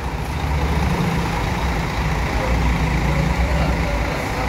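Big Padang and Medan intercity buses, including Sempati Star, NPM and MPM coaches, roll in convoy in the rain, a continuous low engine rumble and road roar passing steadily nearby with no break.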